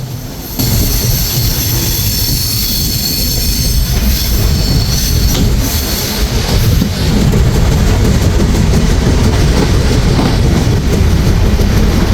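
The Chilahati Express (806), travelling from Chilahati toward Dhaka, runs along the track with a loud, steady rumble and rattle of wheels and carriages, plus a high-pitched squeal. The noise is close and continuous and nobody speaks.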